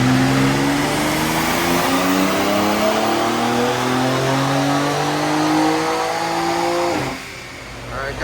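A stock BMW X3 M engine revs steadily upward in pitch for several seconds under heavy load on a dyno, loud and close, then cuts off abruptly as the throttle closes.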